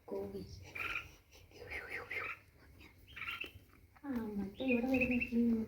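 Parent birds and nestlings give repeated thin, high chirps and calls, quiet and fairly distant, becoming busier toward the end over a soft murmur of voices.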